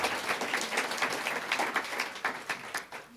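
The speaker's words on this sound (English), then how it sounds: "please join me in a round of applause for all our sponsors" Audience applause for sponsors at a community discussion event, a moderate crowd clapping in uneven waves, fairly close and without speech.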